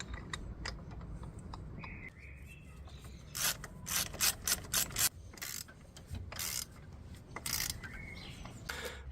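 Ratchet wrench clicking in repeated short bursts while size 19 and 21 subframe bolts are tightened on a 2005 Fiat, close and moderately loud with a faint mechanical background.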